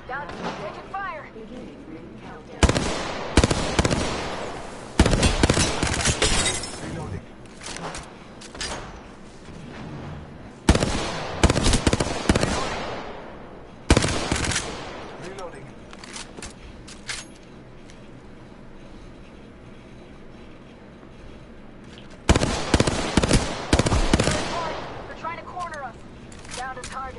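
Apex Legends gunfire comes in several loud, sharp bursts, separated by quieter stretches filled with game sounds and voiced callouts.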